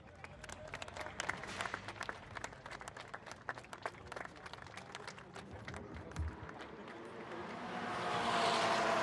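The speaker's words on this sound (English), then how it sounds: "And big applause, let's cheer and do a final picture." Audience applause and cheering at the close of a Porsche Carrera Cup Middle East race event, a dense patter of clapping that swells louder toward the end with crowd noise.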